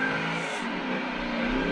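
In a racing simulator video game, a car engine drones loudly and steadily under acceleration, a continuous dense roar with a slight pitch rise across the short stretch and no voice.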